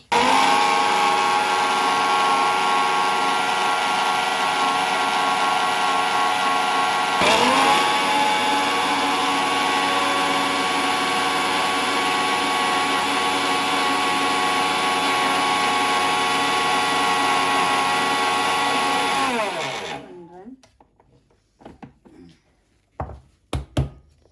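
A mixer grinder whirs loudly and steadily grinding health drink powder for about twenty seconds, with a brief bump midway, then spins down and stops, followed by a few scattered clunks and taps of the jar.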